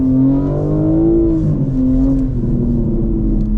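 A 2024 BMW M4 Competition xDrive (G82) pulling away in first gear, its engine note rising and falling in a loud, steady drone with strong harmonic tones sweeping up and back, no talk over it.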